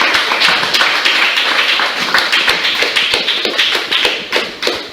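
A church congregation claps in a brisk, steady rhythm, many hands together filling the space at a lively, even pace without any voices.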